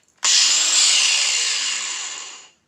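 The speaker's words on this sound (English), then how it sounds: "I have Frankensteined some pretty nice cuts in said plastic with this here cutoff grinder" A cutoff grinder slices through ABS plastic in one steady, loud high-pitched whine lasting about two seconds, starting abruptly and tapering off at the end, with no talking.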